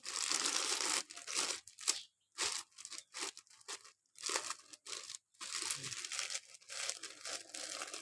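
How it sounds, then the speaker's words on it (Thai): Plastic freezer bags crinkle and tear as cleaned, salt-water-washed fish are packed for freezing, with close, irregular bursts of rustling and crunching that stop for short pauses. "จากนั้นเราก็จะมาแพ็คถุงเข้าฟรีซนะคะ"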